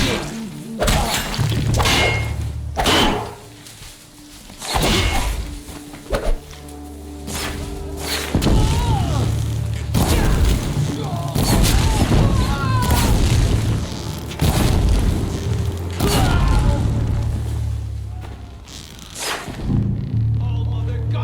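Heavy booms and shots crack out in a combat fight in the video game Horizon Zero Dawn, loud thudding blasts and whooshes recurring every few seconds over a steady rumbling background.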